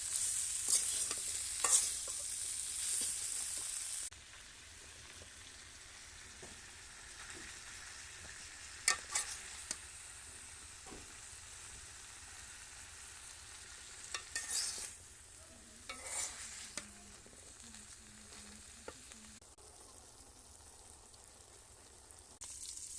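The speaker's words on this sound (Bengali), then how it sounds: "লতি দিয়ে একটু নেড়ে ছেড়ে নিই।" Taro stolons (lati) being stirred in a frying pan, a soft sizzle with scattered scraping strokes and a few sharper clinks, fairly quiet and steady with no voices.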